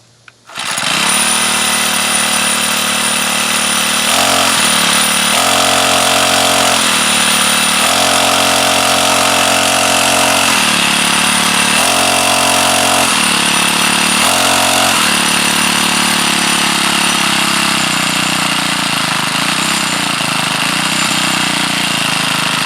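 A custom gas-powered tricycle engine starts and runs loudly and steadily for about twenty seconds, its drone rising and falling in pitch a few times as the throttle is blipped, with no talk over it.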